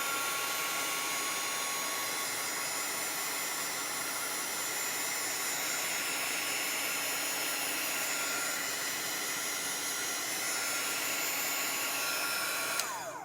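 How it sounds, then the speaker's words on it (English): A heat tool blows a steady, loud rushing whoosh close by while a chalk transfer dries, continuing unbroken from start to finish. "Make sure your heat tool goes away from your transfer."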